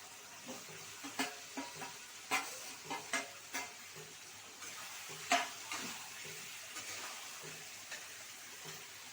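Egg and potato curry sizzles steadily in a pan as a spoon stirs it with a string of sharp scraping knocks, the frying hiss continuing underneath.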